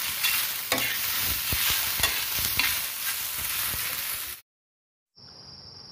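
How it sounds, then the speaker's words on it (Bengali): Taro stolons frying with garlic and green chilli in a pan, a loud steady sizzle with stirring scrapes, cut off abruptly before a faint, quieter tail of sizzling. "কচুর লতি আর রসুন কাঁচা লঙ্কা একসাথে ভাজা করে নিলাম"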